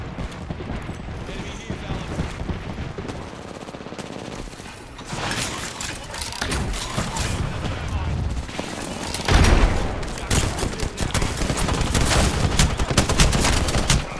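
Gunfire in a shooter video game sounds as repeated bursts of rapid shots layered over game effects, rising louder toward the end, with players talking over the action.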